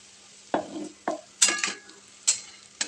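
A dry potato dish with crushed peanuts and coriander is sautéed in a pan, with a faint sizzle under a series of distinct spoon scrapes and taps against the metal.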